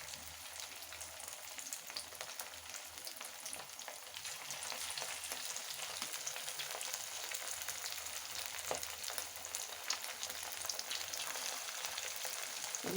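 Cut snack pieces fry in hot oil in a pan, giving a soft, steady crackling sizzle that builds slightly as it goes on, fairly quiet and with no voices.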